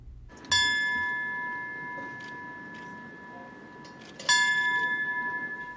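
A ceremonial bell rung jointly by the LAFD and LAPD chiefs as a tribute to September 11th victims: two clear, resonant strikes about four seconds apart, each leaving a long ringing decay over a murmuring crowd.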